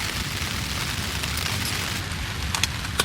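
Rain falling at a campsite on a rainy day, a loud, dense, continuous patter and hiss with a few sharper drips and taps toward the end.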